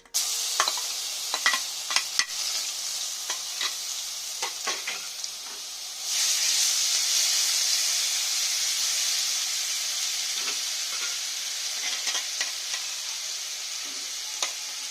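Ground onion paste dropped into hot oil with black cumin in a pan: a few spatula clicks over a gentle sizzle, then a sudden loud, hissing fry that keeps going steadily.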